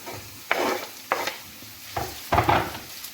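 Peppers and potatoes fry in a pan for a vegetable omelette and are stirred in four distinct bursts, each scrape and sizzle rising sharply and then fading, close by with no voices.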